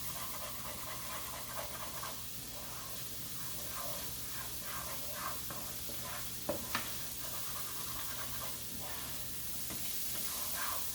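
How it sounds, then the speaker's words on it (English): Peppers tossed with seasoning sizzle faintly in a hot pan while being stirred, low hiss with scattered scraping taps and a sharper clatter midway, quiet throughout. "I'm just going to stir that up so it gets a nice sticky coating"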